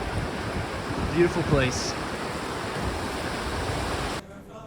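Water of the Kern River flows steadily near a hot springs along the High Sierra Trail, a broad continuous rush that cuts off abruptly at the end, with a brief spoken remark partway through.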